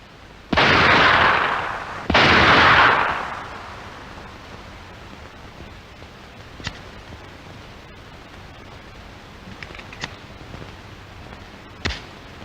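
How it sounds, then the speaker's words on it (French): Two loud pistol shots ring out in quick succession at a military rapid-fire training range, each with a sharp blast and lingering echo, followed by a few faint distant pops and quieter range noise. "Le tir rapide au pistolet est efficace de 25 à 10 mètres."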